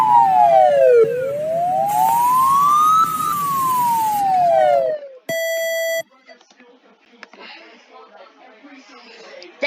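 An emergency alert alarm sweeps loudly up and down in a wailing siren pattern for several seconds, then switches to a short steady beep before stopping, followed by a person talking.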